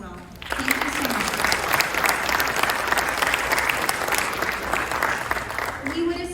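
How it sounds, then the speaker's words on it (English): An audience at an alumni evening event breaks into applause that swells after a brief pause and holds strong and steady, with faint voices underneath as it continues. "Round of applause for them as well"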